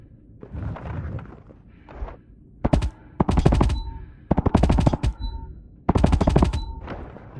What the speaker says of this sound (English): I didn't know it had a pistol